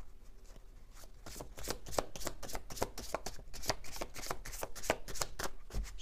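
Oracle TAO oracle cards being shuffled by hand, a steady run of crisp, rapid riffling slaps and flutters, close and fairly loud with no talking.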